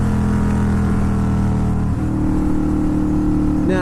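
Kawasaki Vulcan 800 cruiser motorcycle engine droning loud and steady at cruising speed, its pitch climbing as the throttle opens further, with constant wind rush throughout.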